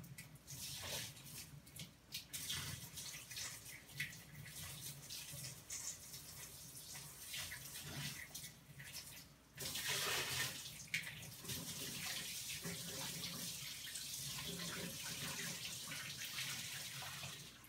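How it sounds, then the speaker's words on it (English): Saltwater pours and splashes steadily over rock into a reef aquarium tank, with a louder gushing surge partway through, heard close up with no talking. "Pour it over the rock to not disturb the soil too much."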